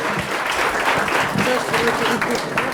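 An audience at an oyster-shucking contest in Charente-Maritime applauds a contestant from a maritime high school in La Rochelle, a dense, even wash of clapping that holds steady throughout, with a voice faintly underneath.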